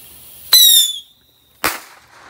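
A large bottle rocket firework launches outdoors at night: a sharp burst with a piercing whistle that fades over half a second, then a second short crack, loud and close.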